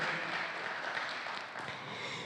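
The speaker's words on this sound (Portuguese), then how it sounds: "Vamos aplaudir ao Senhor" A church congregation applauds, a dense steady wash of many hands clapping at moderate distance, filling the space evenly without a break.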